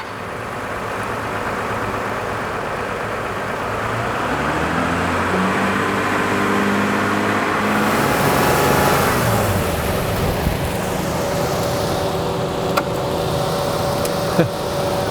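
A 1998 Acura TL engine idles with its radiator cooling fans running, a steady close whir and rumble that swells slightly midway, with a couple of sharp clicks near the end.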